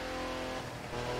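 Powerful car engine in The Crew 2 revving hard off the start line, its steady drone dipping briefly mid-clip as if through a gear change before pulling on, loud and close.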